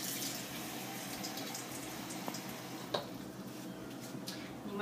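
Tap water runs steadily into a medium-sized saucepan, with 3 cups going in for rice, a soft continuous rush broken by a couple of faint clinks.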